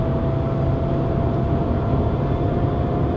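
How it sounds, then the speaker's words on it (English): A Ford Mondeo engine driven flat out in a racing game, a loud steady drone at constant revs with no talk over it. "Flat out now in the what car is it, a Mondeo or what?"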